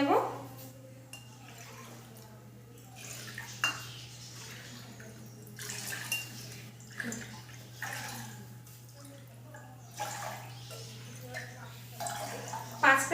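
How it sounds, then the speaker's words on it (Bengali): Water is poured and sloshed into a pot on a lit gas stove in a home kitchen, faint splashes and clinks coming in irregular bursts over a steady low hum, with someone talking at times. "5 কাপ জল নেব।"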